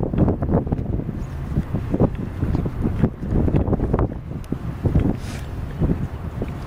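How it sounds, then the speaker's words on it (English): Strong gusts buffet the microphone at the shoreline, booming low rumbles arriving in irregular bursts over a steady roar of moving air, loud and close, with no voices. "Sorry if you can't hear me too well, because the wind's really windy."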